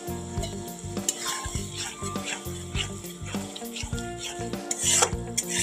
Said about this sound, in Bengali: ভালো করে মশলাটা কষাতে হবে, নাহলে কাঁচা গন্ধ রয়ে যাবে বন্ধুরা।